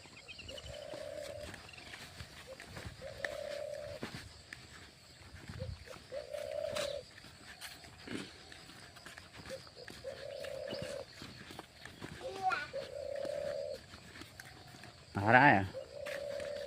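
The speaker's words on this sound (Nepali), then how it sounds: "यो चरा चुरुङ्गी काँकु गर्छन्।" Pigeons or doves coo in a repeated, evenly spaced series of soft mid-pitched calls from moderately near, under intermittent talking and other outdoor village noises.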